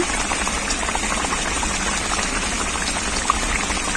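Eggs with spices steam under a lid in a covered pan, giving a steady close bubbling hiss with faint crackles throughout and no talking.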